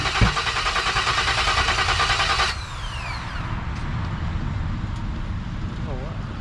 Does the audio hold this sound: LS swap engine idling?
yes